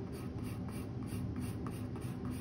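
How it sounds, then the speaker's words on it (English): A colored pencil burnishes paper in close, steady back-and-forth strokes, a soft rhythmic scratching that repeats about every quarter second with no talking. "a little bit more burnishing"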